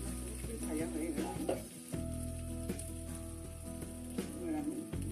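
Fish, a whole Bengali paapda fish, sizzles and fries in hot oil in a pan, a steady close crackle with stirring and scraping bumps, and a brief dip near the middle.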